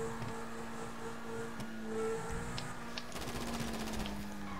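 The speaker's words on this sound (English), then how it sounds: "I was shooting that asshole on the sidewalk" Gunfire in a video game, a rapid automatic burst of evenly spaced shots near the end, moderately loud over a steady engine-like drone.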